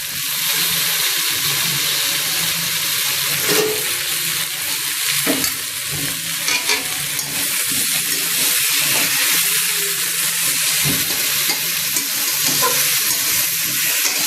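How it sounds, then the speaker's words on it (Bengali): Whole tomatoes go into a pan of frying onions for a Bengali mutton curry and get stirred, a steady loud sizzle and hiss with scraping stir strokes running throughout, no voices. "এবার টমেটোগুলো দিয়ে দেওয়া হচ্ছে"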